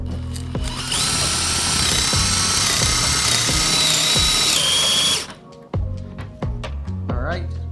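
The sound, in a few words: power drill drilling into scrap wood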